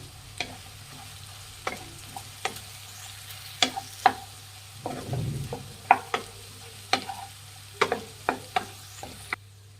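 Raw banana kababs stirred in a frying pan with a spatula, sharp scraping clicks repeating irregularly over a steady low sizzle of hot oil, close and moderately loud with no voices.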